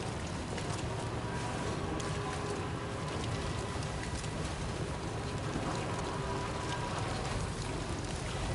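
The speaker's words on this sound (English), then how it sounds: "It's rain." Steady rain in Death Stranding 2 falls as a dense, even hiss across the whole stretch, moderately loud with no voices or other clear sounds above it.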